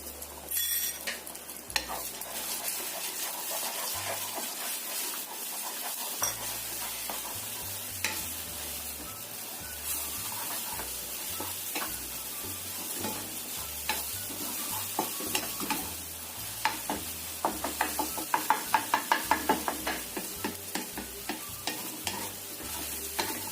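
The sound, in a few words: eggs being scrambled and fried in oil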